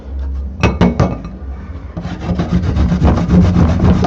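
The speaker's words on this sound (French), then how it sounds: "Vous allez râper du gingembre." Peeled ginger is scraped across a grater in fast, steady rasping strokes that start after a few light knocks and continue loud and close, with no talking.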